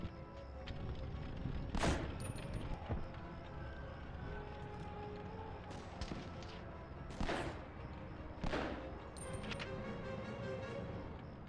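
Gunfire in Medal of Honor Underground rings out as scattered sharp shots at irregular intervals against a low game background, each crack standing alone with no talk.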